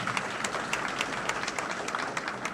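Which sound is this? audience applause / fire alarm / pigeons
audience applause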